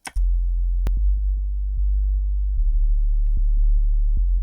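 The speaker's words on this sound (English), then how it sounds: "And then I also added a deep sub to this." A deep sub bass synth from an Ableton instrumental, loud and alone: a sustained low hum that steps between pitches, with faint regular clicks marking the beat and a sharp transient at the start.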